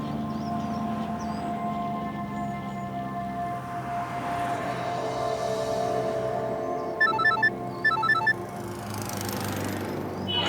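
A telephone rings back on an outgoing call, two short electronic ring bursts about a second apart, sounding over a steady humming background.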